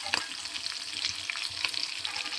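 Garlic and curry leaves frying in hot oil for a Telugu punugulu recipe, a steady crackling sizzle with sharp spits and pops close by, no voices.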